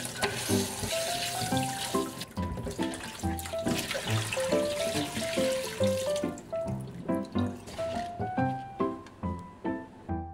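Tap water runs and splashes as vegetables are rinsed in a kitchen sink, a soft continuous wash with brief clattering surges, set under background music.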